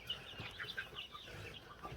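Soft clucking from a rooster or hen, a few short calls against a quiet background inside a mobile summer chicken coop.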